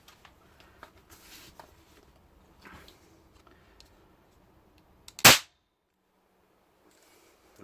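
A wheel lock gun converted to cap fire goes off in one sharp, loud bang after quiet handling clicks and rustles, followed by near silence.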